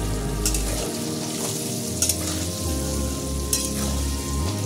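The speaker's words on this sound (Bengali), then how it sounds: "কড়াইয়ে তেল দিয়ে দিয়েছি, সর্ষের তেল। এবার আলুগুলো ভেজে নেব" Potato pieces with salt and turmeric sizzling in mustard oil in a wok, a steady close crackle and hiss with a few sharp stirring scrapes and clinks of a spatula.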